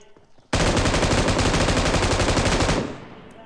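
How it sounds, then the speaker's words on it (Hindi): Close, loud automatic gunfire in PUBG Mobile, set in Georgopol, pours out as one unbroken burst of rapid shots lasting over two seconds, then cuts off into quieter game background. "अब ये बैक से भी फायर होते हैं, बैक वाले घरों से"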